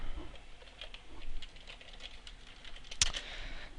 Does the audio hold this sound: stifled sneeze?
no